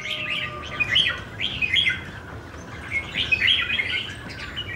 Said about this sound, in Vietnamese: Trong cái dàn chim của chú thấy có con lòng tre đẹp này, con chim này đẹp ghê chú.